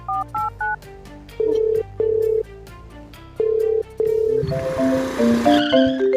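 Three short dialing beeps, then a series of longer tones, before a phone ringtone melody starts over a noisy background.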